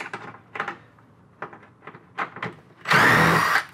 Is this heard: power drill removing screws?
yes